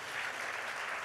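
Audience applause at a school assembly, a dense, steady burst of many hands clapping together, loud and sustained through the whole short moment.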